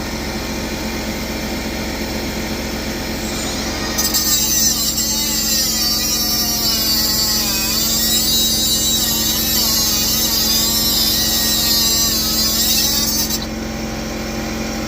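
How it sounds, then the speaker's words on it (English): A power tool cuts through a bolt on the clutch adjustment rod of a 1964 Chevy Chevelle Malibu 327 with a Muncie 4-speed; a steady, loud high-pitched grinding runs for about nine seconds over a constant motor hum, with no talk. "So I'm going to cut the bolt off."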